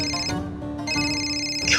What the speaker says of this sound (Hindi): कुहू का फोन